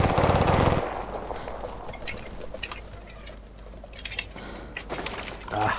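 Gunfire in the battle royale game Cuisine Royale: a rapid burst of automatic fire up front, then scattered distant shots and cracks over a quieter ambience.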